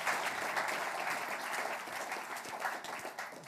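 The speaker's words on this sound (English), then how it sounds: "give him a round of applause" Audience at a public debate breaks into steady, dense applause filling the room at even volume for a few seconds.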